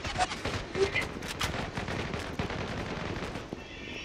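Bursts of rapid automatic gunfire in the online shooter Zula, a loud, dense stutter of shots with scattered single cracks and faint background game noise.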